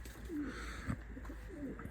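Pigeons in a pigeon loft give soft, low cooing calls, several rolling coos at a moderate distance with a quiet background and no talk.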